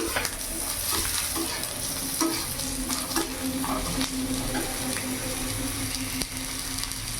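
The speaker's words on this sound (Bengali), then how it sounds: "পেঁয়াজটা ভাজা ভাজা হয়ে গেছে এরই মধ্যে কেটে রাখা আলু আমি দিয়ে দিলাম" Chopped potatoes and fried onions sizzle steadily in a pan for a mourola fish chochchori, with spatula stirring and scraping throughout, loud and close with no talking.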